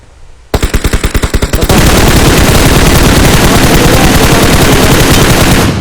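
Video game gunfire, very loud and close. A string of distinct, evenly spaced automatic shots quickly turns into a continuous, dense roar of machine-gun fire.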